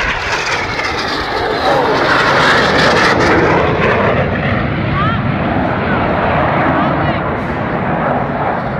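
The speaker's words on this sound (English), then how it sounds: "a Synchro pair running in now for a manoeuvre called the Carousel" Red Arrows Synchro pair jets at an air show in Perth, Scotland, roaring loud and close as they pass head-on in the Carousel manoeuvre, a sustained broadband jet rush that swells in the middle of the pass.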